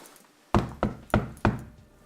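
Four firm knocks land on a wooden door in a quick, slightly uneven rhythm, close and sharp against a quiet room.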